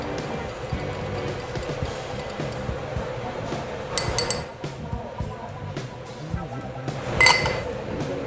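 Bar spoon stirring a Bianco Manhattan with whiskey in a mixing glass, producing light clinks and tinkling ice against glass at a steady pace, with brief brighter chimes, under murmured talk and room noise.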